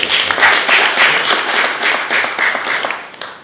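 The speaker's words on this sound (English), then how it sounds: "Let's give him another round of applause." An audience at a volleyball association event claps steadily for about three seconds, a dense even patter of many hands that tapers slightly toward the end, with no talking over it.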